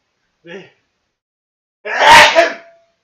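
A single loud, close sneeze bursts out after a brief soft intake of breath, then the room goes quiet.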